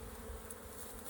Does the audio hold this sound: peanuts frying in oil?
no